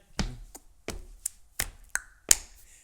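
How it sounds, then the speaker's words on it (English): A series of crisp finger snaps in a bouncy rhythm, some doubled, ending with a sharp hand clap; close and clear with no talking. "you have the snaps out here, double snap, right, left. Then clap up here"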